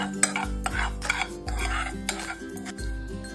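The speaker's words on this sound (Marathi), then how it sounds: "याच्यामध्ये ना तीळ आणि खसखस आपल्याला भाजून घ्यायचंय" Sesame and poppy seeds dry-roasted in a hot pan with the gas turned off, stirred in three repeated strokes with light scraping and a faint crackle, close and fairly quiet with no talking.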